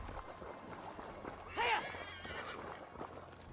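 A horse in the game Valhalla gives a short whinny midway through, over a steady bed of hoofbeats and ambient game noise.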